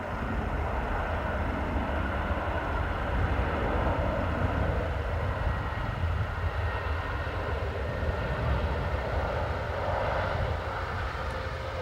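A Ryanair airliner from Prague at Dublin Airport on a wet, windy day rumbles at a distance, a broad steady engine roar swelling slightly and then easing, with no talk.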